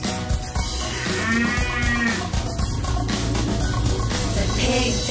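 A cartoon cow lets out a long, drawn-out moo over bouncy nursery-rhyme music for kids.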